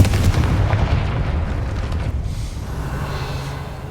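The Confringo fire spell explodes in the Hogwarts Legacy video game, a loud sustained rumbling blast that fades slowly into a dull roar, with no voices.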